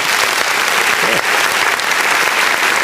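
Loud, dense applause from a tournament audience cheering a competitor, a continuous roar of clapping filling the room from start to finish, with a voice briefly audible beneath it.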